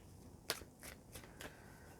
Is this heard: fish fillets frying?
no